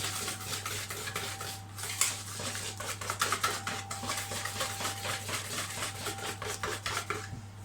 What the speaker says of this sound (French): il faut bien battre pour ne pas avoir de grumeaux